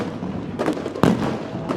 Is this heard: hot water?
no